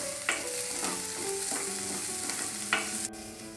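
Chopped onions sautéing in a pan after cumin seeds, a steady close sizzle with scraping stirs from a spoon and a few clinks against the pan.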